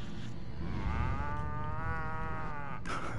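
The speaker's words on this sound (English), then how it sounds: "let's investigate these glowing cows" Glowing cows in the 2005 video game Destroy All Humans! give a long, drawn-out moo over a steady background bed of game ambience, loud and close.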